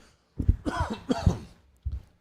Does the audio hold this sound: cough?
yes